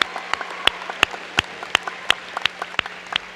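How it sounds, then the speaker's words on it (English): A graduation audience claps for the class of 2022, scattered individual claps ringing out in an irregular rhythm over a thin background wash, moderately loud, with no speech. "Let's give another round of applause for class 22."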